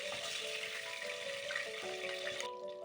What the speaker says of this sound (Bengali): আবারও দ্বিতীয় ধাপে পটলগুলোকে আমরা একইভাবে ভেজে তুলে নেব।